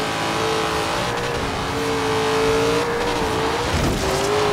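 An old classic car in the Forza Horizon 3 video game holds a steady, loud engine drone under throttle, its pitch wavering and climbing slightly, with faint tire noise and no talk.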